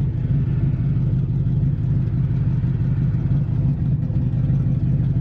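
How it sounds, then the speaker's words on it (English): A turbocharged Mustang engine with an off tune drones loudly and steadily, a deep continuous rumble as it bogs while climbing into high RPM, with no talking. "You heard it really bog out as it climbed up in the high RPMs."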